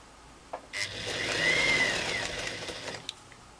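A sewing machine stitches a chain of fabric pieces one after another, its motor a steady mid-level whir that swells and eases across the pass with a few small clicks at the start and end.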